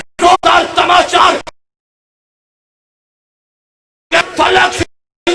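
A crowd at a Shia religious gathering shouts slogans in unison, two loud chanted bursts separated by a long silent gap.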